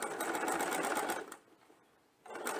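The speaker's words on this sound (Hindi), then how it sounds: "यहाँ पर अब मैं स्क्वायर नेकलाइन पर लेस लगा करके ये स्ट्रिप की सिलाई कर रही हूँ." Sewing machine stitching a lace strip onto a square neckline, a fast steady mechanical chatter that stops briefly, then restarts; no talking.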